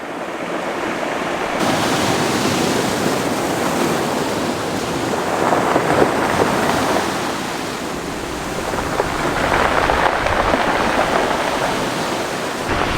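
Ocean waves break and crash on the shore in steady, rushing surf that swells and eases in slow surges, loud and close throughout, with some wind noise and no voices.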